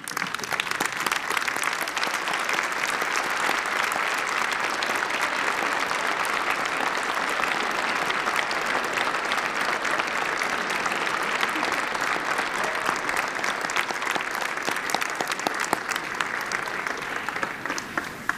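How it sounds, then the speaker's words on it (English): At a winter 2013 undergraduate commencement ceremony, graduates stand and applaud their families: a large crowd claps in a long, even, unbroken roar of many hands that holds steady throughout. "I wonder if I could get our graduates to stand up and applaud your families with all of us"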